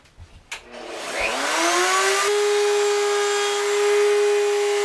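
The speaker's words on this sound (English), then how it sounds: "Route the edges." A wood router spins up after a few clicks and thumps, its whine rising to a steady high-pitched scream as it routes the edges of a nightstand panel, close and loud, with no talking.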